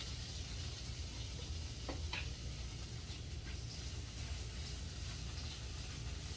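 Roasted pepper and onion go into a frying pan, bringing a steady close sizzle with a couple of brief stirring scrapes, no talk.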